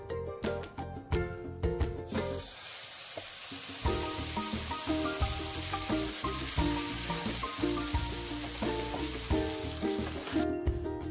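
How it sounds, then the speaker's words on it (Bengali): Mashed maan kochu (giant taro) paste sizzles steadily in a pan of frying spices for Bengali maan kochu baata, a constant crackling hiss under background music. "এখন মানকচুর বাটাটা দিয়ে দেবো।"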